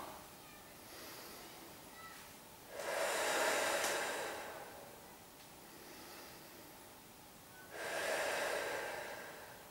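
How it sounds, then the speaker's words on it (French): Calm, slow breathing during a muscle-strengthening posture exercise, with two broad swells of breath a few seconds apart, soft and close, with no talking. "on respire calmement"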